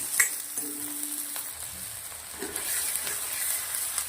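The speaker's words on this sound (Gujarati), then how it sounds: "ટામેટાં બી થોડી વાર આપણે તેલના અંદર શેકી લેશું" Soft, steady sizzling of tomatoes frying in oil, with a few scraping clicks of a utensil; fairly quiet and close.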